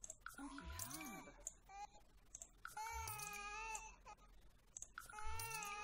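A video-game baby cries in three wailing bursts with rising and falling pitch, clearly heard and mixed with soft game sounds and watery drips, while a voice talks at times.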